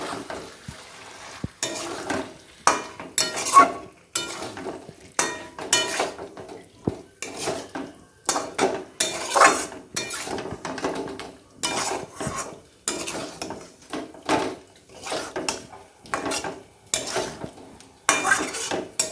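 Egg is stirred and sautéed with coriander leaf paste in a pan: repeated, uneven scraping and clinking of a utensil against the pan, coming in short bursts with a faint sizzle underneath, close and moderately loud.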